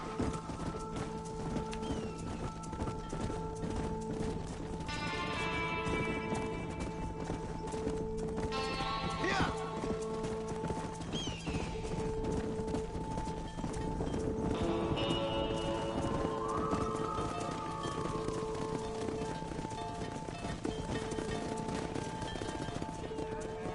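Horse hooves clip-clopping at a steady pace while herding cattle in Red Dead Redemption, over a continuous game soundscape with occasional whinnies, brief animal calls and a low background tone.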